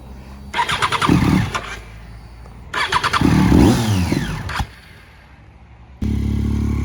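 Triumph Street Triple 675 R motorcycle, freshly rebuilt with its exhausts, cranks twice with the starter whining, catches and revs loudly, then settles into a steady close idle.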